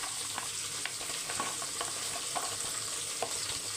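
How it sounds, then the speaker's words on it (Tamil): Raw plantain pieces fry in oil, a steady soft sizzle with brief scraping stirs now and then, fairly quiet and alone. "இப்போ பார்த்தீங்கன்னா வாழைக்காய் வறுத்தம் பாருங்க"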